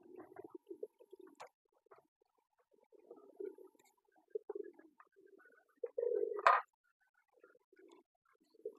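A young dove giving soft, low cooing calls in short scattered bursts, one louder drawn-out coo near the end, close by in a quiet room.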